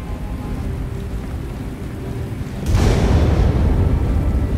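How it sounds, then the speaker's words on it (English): A sudden deep boom at the midpoint of an escape-pod sequence aboard a sinking facility in Star Wars: The Old Republic, setting off a loud sustained rumble that continues over a steady background wash, with no talking. "What was that? An explosion?"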